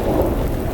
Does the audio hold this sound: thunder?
yes